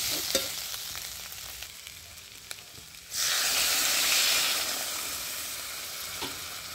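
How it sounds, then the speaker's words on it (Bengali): Water hits a hot wok of mushroom and potato curry, setting off a sudden loud, broad sizzling hiss that holds steady and slowly eases, after a quieter stretch of soft stirring and frying. "এর মধ্যে এবার আমি একটু জল দিয়ে দিচ্ছি"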